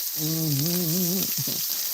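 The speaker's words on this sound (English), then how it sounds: "listen to the sizzle and hear that and smell that smell" Constant broad sizzling of shrimp and sausage frying in a hot skillet, with a humming voice rising over it midway.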